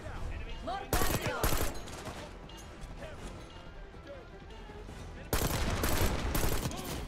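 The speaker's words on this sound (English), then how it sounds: "It's like a three-burst rifle." Three-round bursts from a rifle in the video game Black Ops 6: two loud clusters of sharp shots, one near the start and a longer one near the end, with game sounds and voices between.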